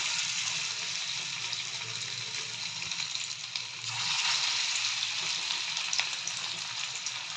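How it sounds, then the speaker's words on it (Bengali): Katla fish oil fritters fry in hot oil over a low flame, giving a steady, close hiss and crackle that holds throughout and swells slightly midway. "তো তেল গরম হয়ে গেছে, এবার মাছের তেলগুলো ছেড়ে দেবো এক এক করে।"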